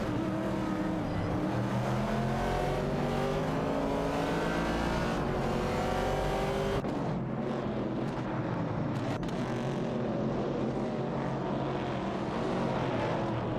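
Chevrolet Camaro and Mercury Cougar race cars in a video game race, heard as a continuous loud engine roar with rising, revving tones and a car sweeping past near the middle, with no speech.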